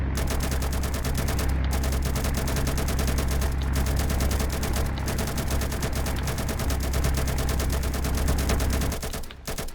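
Naval warfare video game combat: continuous loud gunfire and explosions roar throughout, dense rapid bursts with booming impacts, ending abruptly near the close.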